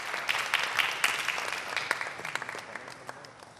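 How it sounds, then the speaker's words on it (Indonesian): Studio audience applause on a televised Indonesian debate show, a steady wash of clapping at moderate level that gradually thins and fades over a few seconds, with no talking. "Kasih tepuk tangan."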